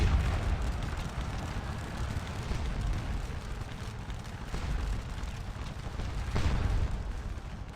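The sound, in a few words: artillery fire in a Napoleonic battle video game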